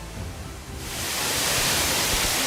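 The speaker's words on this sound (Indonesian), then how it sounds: "Ini dia air terjun tingkat paling atas" The top tier of Leunsalama falls on Wawonii roars as a broad, loud, steady rush of water that swells within the first second and then holds constant, with no voices.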